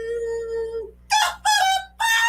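A voice imitates a rooster crowing, a long drawn-out held note followed by three loud, sharp bursts with short pauses between them, all close and clear.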